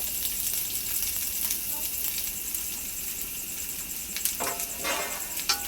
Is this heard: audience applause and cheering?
no